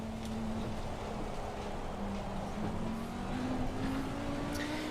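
Race car engine in Assetto Corsa Competizione while warming up the tyres, a steady droning note that slowly climbs in pitch over a constant roar of road and wind noise, with no talk.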